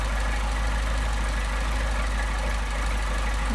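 A car engine running just after a hot start on twin Solex 44PHH carburetors, a dense, steady idle with a strong low rumble, loud and close throughout with no talk over it.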